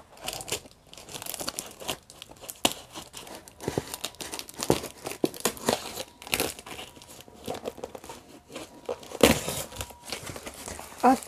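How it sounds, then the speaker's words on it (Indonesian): Delivered package being unwrapped, plastic packaging crinkling and crunching in irregular bursts with occasional tearing, close and steady throughout with no talking. "Mari kita unboxing apa ini."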